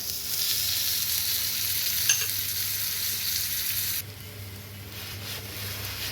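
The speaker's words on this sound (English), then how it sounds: "I'm going to add some butter to it and make it hot" Pav bread toasting in butter in a hot pan, with steady bright sizzling and frying that drops to a softer sizzle partway through.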